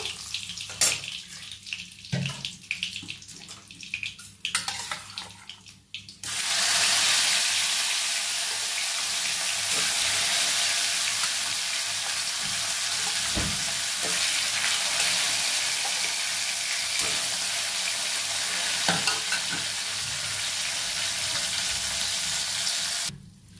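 A few soft kitchen clinks, then loud, steady hissing sizzle of katla fish frying in hot oil that continues without a break.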